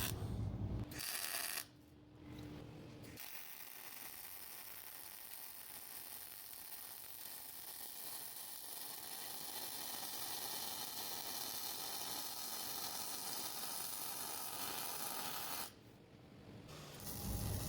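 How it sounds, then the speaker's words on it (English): Welding steel shackle mounts onto a DIY bumper kit frame: a steady, crackling sizzle of the arc running continuously for over ten seconds, moderately close, with brief pauses at the start and end and no talking. "And now you can start welding the shell to the frame."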